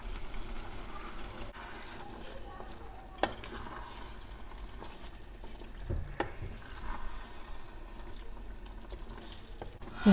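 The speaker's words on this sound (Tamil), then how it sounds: "இப்போ சிக்கனை போட்டு நல்லா 2 நிமிஷம் வதக்கிடலாம்." Chicken pieces frying in a pan with ginger-garlic masala for Chettinad-style curry leaf chicken fry, a low steady sizzle with a few sharp scrapes and clatters of stirring, no talking.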